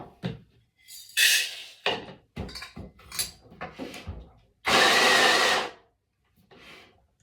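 A coffee grinder runs in one loud burst of about a second while beans are ground for French press, set among clattering kitchen handling noises and brief bumps before and after.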